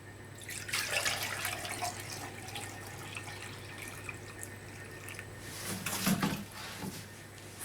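Liquid is poured into laboratory beakers for a jar test, a soft running, dripping trickle that swells near the start and again toward the end over a low steady hum.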